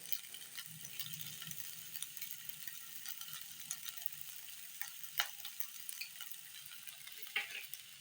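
Basmati fried rice being stirred lightly in a pan, soft scraping and faint sizzling with small clicks of a spoon against metal, quiet and close, with no voices.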